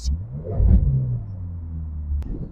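A Ferrari California's engine gives a deep, close rumble, swelling briefly then settling into a steady low idle-like growl with a short click near the end.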